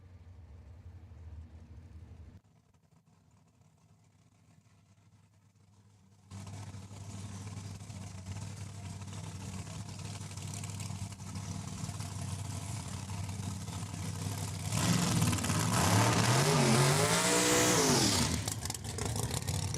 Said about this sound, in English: I think it's a 2019 Corvette.